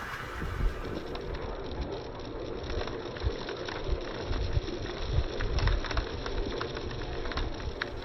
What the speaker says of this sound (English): The old birds are singing. The old pigeons up there.